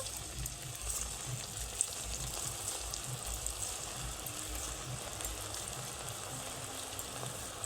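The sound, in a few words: bread pakora balls frying in hot oil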